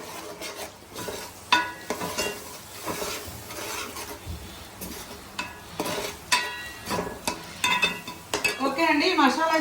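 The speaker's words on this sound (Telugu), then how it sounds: "ఇది పచ్చి మసాలా పోయే వరకు బాగా వేసేస్తున్నాము" Masala sizzles and fries in a pan for a mango fish curry, with a spoon scraping and clinking against the pan in irregular strokes close by, continuing steadily throughout.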